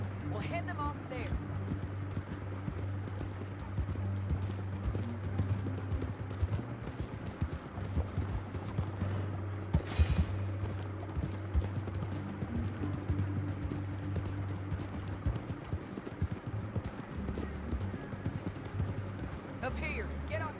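Steady clip-clop of horse hooves at a brisk pace in the video game Red Dead Redemption 2 runs throughout, with voices speaking over the rhythmic trotting.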